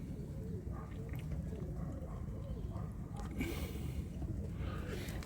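Pigeons in a loft cooing softly in the background, low murmuring calls over a steady hum of ambient noise.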